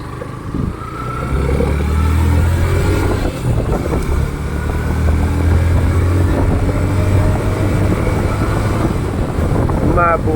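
Many motorcycles travel along a road in the Philippines on a cold ride, with a loud, continuous low engine rumble mixed with heavy wind buffeting close to the microphone.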